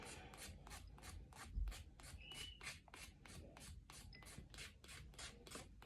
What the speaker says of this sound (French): c'est ta lime qui fait le tour de l'ongle